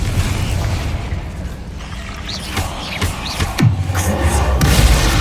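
Confringo blasting spell in Hogwarts Legacy, heard as several sharp bursts and pops over a busy rumbling game backdrop, with a louder blast and rising crackle toward the end.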